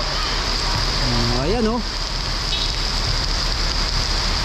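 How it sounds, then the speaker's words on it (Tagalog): Heavy rain pours down in a steady, dense hiss around a covered court in Magallanes, Cavite, constant and loud throughout while someone speaks briefly over it. "Super lakas ng ulan mga idol."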